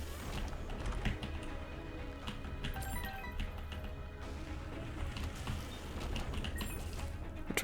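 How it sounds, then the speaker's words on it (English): Typing on a computer keyboard whose switch sound is a focus, a dense run of close clicky keystrokes going for several seconds with a faint mechanical clatter and no one talking. "I actually do really like the way the keyboard sounds"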